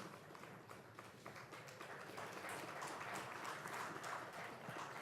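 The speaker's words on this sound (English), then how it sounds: "Let's have a bigger round of applause, please" Applause for panelists at a governance summit session, a moderately loud, continuous patter of clapping from the audience with individual claps audible.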